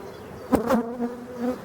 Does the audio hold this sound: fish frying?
no